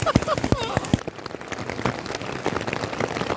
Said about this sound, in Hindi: ताबड़तोड़ बारिश हो रही है, उसके साथ ओले